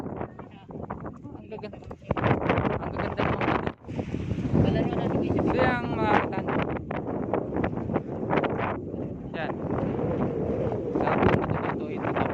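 Wind gusts roar across the microphone on top of a rock at Boracay, a loud, buffeting rumble that rises and falls while people talk.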